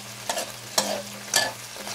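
Stirring crispy fried chicken in a hot pan with sizzling lemongrass fish sauce: three distinct scraping strokes spaced out over a steady low hum, close and moderately loud.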